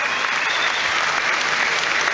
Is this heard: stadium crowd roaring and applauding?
yes